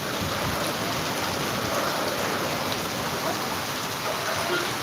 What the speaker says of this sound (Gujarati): અત્યારે જામકરણામાં ધોધમાર વરસાદ પડે